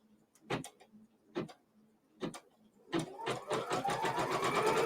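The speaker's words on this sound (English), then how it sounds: "So it is just stitching out my main border" An embroidery sewing machine stitches the square main border of a quilt block. It starts with a few separate mechanical thumps, then settles into a steady, close whirring run.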